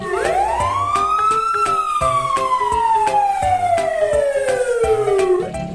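A toy fire truck wails with a loud electronic siren that sweeps up and then slowly falls, over a rapid repeating beep pattern, close and continuous.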